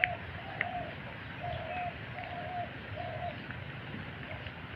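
A pet bird coos softly in a repeated rhythmic series of low calls, faint against a background hiss of rain.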